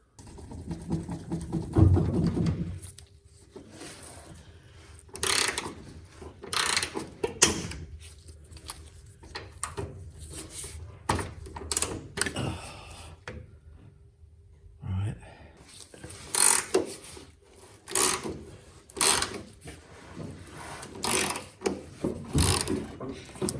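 A ratchet wrench works a rusty bolt loose on an old Bradshaw / Taylor Dunn electric tug truck, with repeated clicking pawl bursts and creaking strains, close and irregular, between pauses and short moments of talk.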